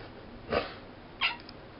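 Two short meows from a cat sitting in water in a bathtub, spaced about half a second apart, close by in an otherwise quiet room.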